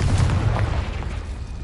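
A Confringo blasting spell erupts in Hogwarts Legacy as a single loud, close boom that rolls off into a fading rumble over under two seconds.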